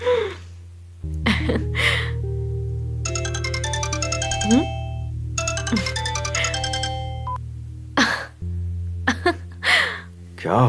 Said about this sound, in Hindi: फोन उठाओ संध्या।